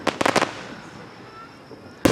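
Fireworks bursting at a Gettysburg Fourth of July show: a quick cluster of three loud pops up front, a long crackling, hissing tail fading out, then another sharp burst at the end.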